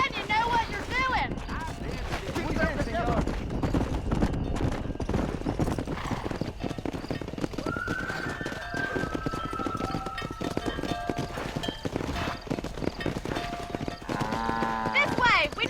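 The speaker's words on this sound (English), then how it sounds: "Herd the cows down the road." Cattle being herded along a road by riders on horseback in Red Dead Redemption, with steady hoof clip-clop and livestock sounds in a busy mix under game dialogue and music.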